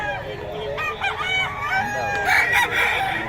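Roosters crow close by at a fighting-cock farm in Bocaue, with overlapping drawn-out cock-a-doodle-doo calls and some clucking, and people talk quietly in the background.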